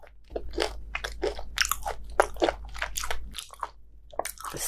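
Repeated crisp crunching bites into raw bluefin tuna belly sashimi, a dense run of sharp crunches close to the mic over a low steady hum, with no talking.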